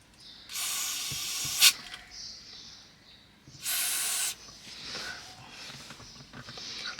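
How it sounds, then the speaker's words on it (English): Two distinct bursts of silicone spray hiss from an aerosol can onto the gear lever selectors of a Tata Altroz, each lasting under a second, with a sharp click between them and quiet handling noises afterward. "So I will first apply some silicone spray,"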